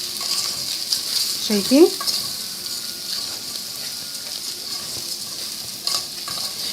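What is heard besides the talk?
stir-frying rice in a hot pan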